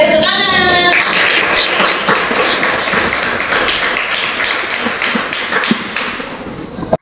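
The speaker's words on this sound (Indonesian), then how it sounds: "Oke, tepuk tangan." A classroom group clapping hands together: steady, dense applause of many hands, close and loud, with a brief chirpy tone at the start, fading slightly toward the end.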